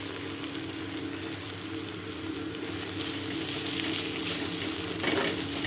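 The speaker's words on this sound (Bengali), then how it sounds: "আদা আর লঙ্কাটাকে একটু হালকা ভেজে নেব" Chopped ginger and green chilies sizzling in hot oil in a pan, a steady bright frying hiss that grows slightly louder and busier midway.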